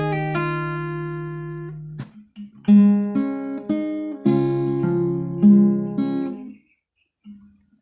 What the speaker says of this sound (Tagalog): Tapos next na kinalabit ko ay second string.